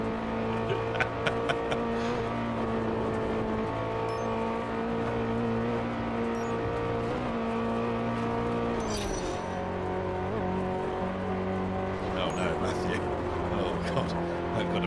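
A GTO driving in the racing game Test Drive Unlimited 2, a steady loud engine drone with harmonic whine that shifts pitch at a gear change, tire noise and brief scuffs, with a voice talking over it.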